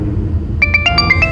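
A phone ringtone breaks in after a moment of low room hum, a quick run of bright electronic beeps at varying pitches, close and clear.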